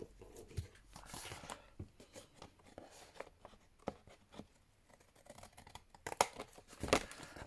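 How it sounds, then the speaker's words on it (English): Scissors trim excess paper pieces from a snippet journal cover, making close, quiet snips and papery rustles in irregular bursts, louder near the end. "let's cut off these excess pieces"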